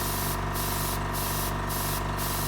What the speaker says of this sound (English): I'm just making a point to myself as I'm spraying what are the darker areas and what are the lighter areas.